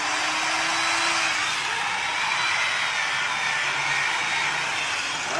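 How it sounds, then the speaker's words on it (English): An angle grinder powered by an off-grid setup in bright midday sunlight runs with a steady, loud, high-pitched whir. It holds constant throughout with no talking. "we will see if we get now an angle grinder to run."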